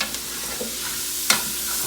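Jambalaya sizzling in a single pan with a steady frying hiss, broken by a few brief scrapes of a utensil against the pan bottom and one sharper scrape near the end; no talking.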